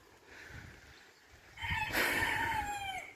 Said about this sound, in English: And angry chickens who want their breakfast.